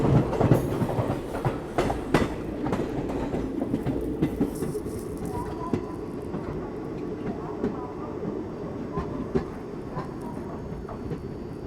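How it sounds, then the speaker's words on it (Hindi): An Indian Railways train crosses the Vibhuti Express near Jasidih station, with a loud rumble and rhythmic clickety-clack of passing coaches that starts strong and slowly eases, under faint background talk. "विभूति एक्सप्रेस के साथ अपनी क्रॉसिंग हो रही है"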